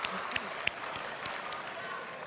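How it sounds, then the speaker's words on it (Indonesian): An audience at the 2019 Indonesian presidential debate claps in a steady patter of applause at moderate distance, with a voice talking over it. "Boleh tepuk tangan dulu? Tepuk tangan dulu."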